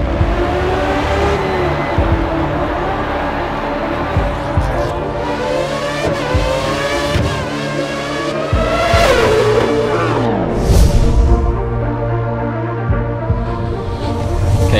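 Formula 1 car lapping the Yeongam circuit in South Korea in the F1 2013 racing game, its engine revving loud and continuous with rising and falling pitch through gear changes, with brief tyre squeal in corners.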